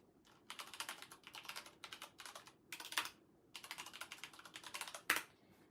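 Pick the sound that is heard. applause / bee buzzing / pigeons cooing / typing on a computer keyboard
typing on a computer keyboard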